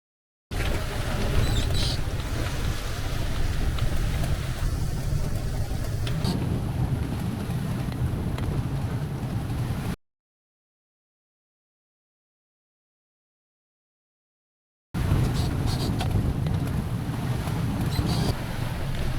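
Wind roars across a sailboat at sea near Gibraltar, a loud, steady rush of gusts, microphone buffeting and water noise that breaks into silence midway and then resumes.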